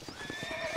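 Hooves clip-clop in a steady, rhythmic gait as a horse whinnies with a drawn-out, wavering call over them, both close and clear, in the Western video game Red Dead Redemption.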